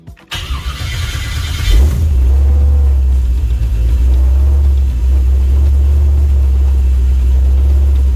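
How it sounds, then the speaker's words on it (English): A car engine cranks and catches, then settles into a loud, steady, low rumbling idle that runs close by for the rest of the clip, with no talking. "I start the car"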